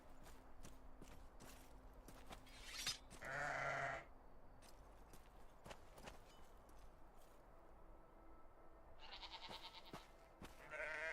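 Sheep on a medieval farm in the Gloria Victis game, with a couple of bleats amid clicks and clopping footsteps.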